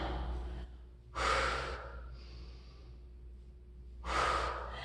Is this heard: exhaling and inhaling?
yes